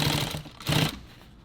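Sewing machine back-tacking a couple of stitches on a nylon tactical pouch, two short mechanical bursts of stitching separated by a pause, close and moderately loud.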